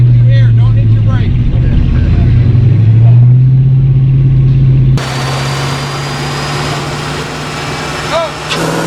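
A 1986 Mustang GT engine runs on a dyno in fourth gear, a loud, steady droning roar that swells slightly and then drops to a lower, quieter hum partway through.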